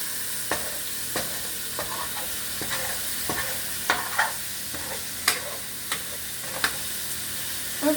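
Onions sautéing in steak drippings in a pan give a steady close sizzle, with sharp clicks and scrapes of stirring at irregular intervals over the whole stretch.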